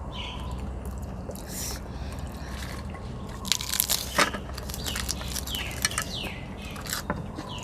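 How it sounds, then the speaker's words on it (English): Birds chirp and tweet in the background outdoors, with bright short calls over steady ambient noise, while closer crunching sounds of people eating spicy seafood salad come through, with no voices. "Listen, can you hear the birds in the background?"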